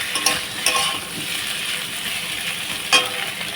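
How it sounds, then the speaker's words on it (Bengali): Ginger and garlic fry in a pan alongside potato and papaya, a constant moderate sizzle broken by several quick metallic clinks and scrapes of a stirring spoon. "আমি ভালোভাবে আদা রসুনটা ভেজে নেব"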